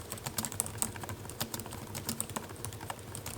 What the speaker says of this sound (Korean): 직접 타자를 쳐보면서 느낀 건 그래도 부드럽고 조용한 타건이